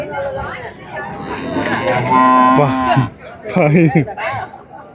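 Cattle at the Manapparai cattle market moo loudly and close by, a long drawn-out call rising over a crowd of people chattering and talking.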